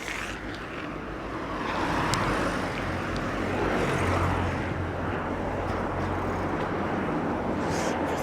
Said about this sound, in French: J'entends quand même le bruit des voitures